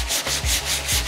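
Coarse sandpaper scrapes back and forth over a rusty metal surface before body filler is applied, making loud, rhythmic rasping strokes of roughly one per quarter second, close up, with no voices.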